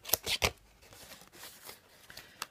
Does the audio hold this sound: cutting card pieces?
yes